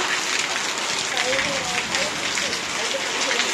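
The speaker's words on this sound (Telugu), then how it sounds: "దీన్ని చూస్తే మనకు అర్థమవుతుంది ఎంత పెద్ద వాన అనేది." Heavy rain pours steadily in Nellore, a dense, even hiss of drops on surfaces that runs unbroken throughout, loud and close.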